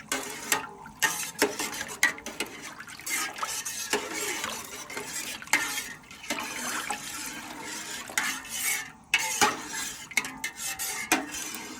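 A metal spoon clatters and scrapes around a pot of pork canning liquid heating toward a boil, with clinks and stirring swishes repeating irregularly at close range and moderate loudness, no voices.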